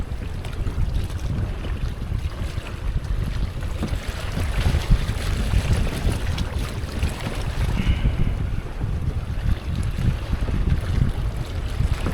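Wind and waves surround a kayak in Everglades National Park, a constant loud rush of wind buffeting and water sloshing against the hull, steady throughout with no talking.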